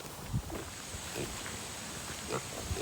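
Piglets on a mobile grazing farm, with faint, scattered grunts and short squeals over a steady outdoor background hiss; the animals sound moderately distant and no one speaks.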